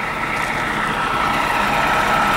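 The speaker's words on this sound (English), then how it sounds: "what you're hearing there, that's a Detroit diesel" A Detroit diesel engine idles steadily, a continuous low, even drone that holds at the same level throughout with no speech.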